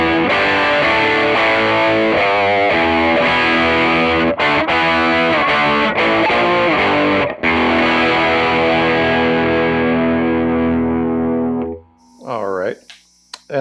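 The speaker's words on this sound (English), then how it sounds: "pull the tone knob, and that gives you the vintage sound from the bridge pickup" A Les Paul Custom electric guitar plays through its bridge pickup with the tone knob pulled for a vintage voicing: loud, sustained, overdriven chords with effects coloring, ringing out before a short burst of higher notes at the end.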